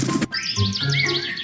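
A bird chirps in a quick series of bright, repeated tweets, close and fairly loud after a short burst of noise at the start.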